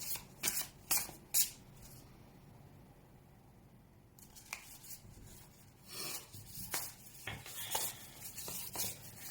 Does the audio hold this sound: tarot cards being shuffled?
yes